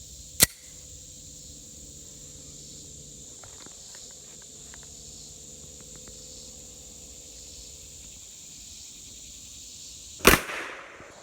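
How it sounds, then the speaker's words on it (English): Two sharp, loud cracks from a Beretta 90-Two (92-series) pistol firing MagTech 115 grain full metal jacket rounds single action at 10 yards, spaced about ten seconds apart, with steady insect chirring droning underneath and no voices. "I'm going to take my first shot single action at 10 yards using the same MagTech 115 grain full metal jacket"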